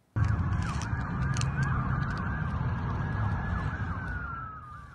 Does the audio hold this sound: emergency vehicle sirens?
yes